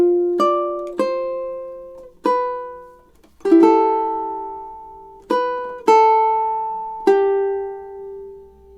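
Fingerpicked ukulele plays two measures of melody, with seven plucked notes and chords at an unhurried, uneven pace. Each one rings out and decays before the next. It is close, clear and alone, with no talking.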